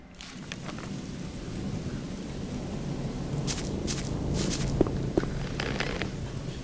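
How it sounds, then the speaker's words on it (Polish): Rain and thunderstorm in the video game Gothic: continuous rain hisses over a low rumble of thunder, with a few brief sharp ticks and splashes cutting through near the end. "Deszcz pada. Burza jest w sumie."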